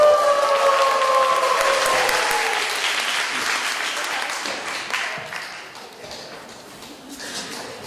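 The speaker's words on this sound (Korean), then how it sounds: "한 번 더 함성을 지르면서 환영합니다" A church congregation gathered for a discipleship training completion service cheers and applauds in welcome, a dense wash of clapping and shouts with a few whistles at first, slowly fading in loudness over several seconds.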